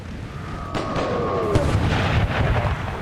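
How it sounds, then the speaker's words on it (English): Mortar rounds in a Napoleon: Total War American Civil War mod landing near friendly troops, a sharp boom followed by a second heavier blast and rumbling crackle, close and loud. "Took a big bit of friendly fire there from my own mortars, I think."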